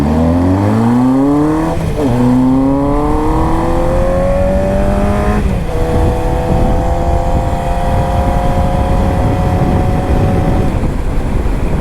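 A motorcycle rides on the road, its loud, close engine climbing in pitch through the gears with two brief dips at the shifts, then holding a steady cruising drone over wind rush.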